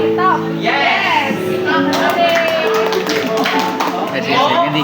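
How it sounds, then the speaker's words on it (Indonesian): Hands clap in applause among a group at a teachers' workshop, scattered claps rising under loud, continuous talking and call-and-response voices in a crowded indoor room. "Beri tepuk tangan."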